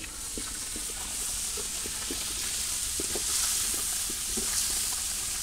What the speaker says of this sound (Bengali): একটু লবণ দিয়ে দিলাম, একটু হলুদের গুঁড়ো দিয়ে দিলাম, আলুটাও সুন্দরভাবে ভাজে নিব।